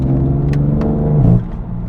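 A tuned BMW M3 with a dual clutch transmission shifts up quickly; a loud steady engine drone drops sharply in pitch at the change, with brief crackles before it.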